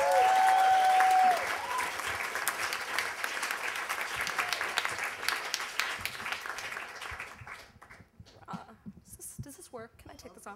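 Audience at a Moth storytelling event breaks into loud sustained applause that gradually thins out, and a voice then begins speaking near the end.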